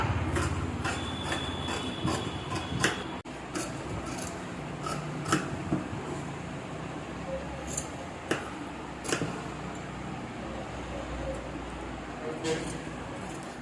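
Scissors cut chudidar fabric, with repeated snips and the crisp crunch of blades through cloth at irregular intervals, close and fairly loud over soft background noise.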